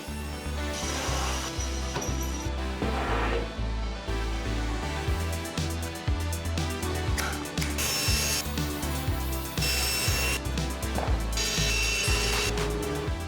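Tapers being cut on wooden dining-table legs using a jig, with repeated rasping, ratcheting cutting strokes and intermittent bursts of loud machine noise, close and continuous, without talk.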